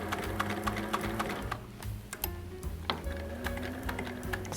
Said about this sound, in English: I am right next to the edge, and that's why it's called edge stitching.